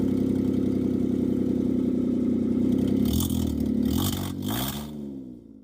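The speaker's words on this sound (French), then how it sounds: "Un client s'est plaint d'un échappement bruyant. Voici à quoi ressemblait le bruit du véhicule." An Audi with a loud exhaust and a blown resonator drones deeply and steadily at idle, then revs with rising and falling pitch before cutting off, loud and close.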